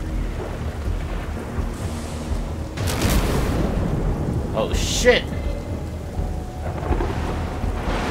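Steady rain hisses through a stormy scene in the video game Strayed Lights, with two heavy thunder rumbles rolling in midway, and a voice briefly exclaims over the storm.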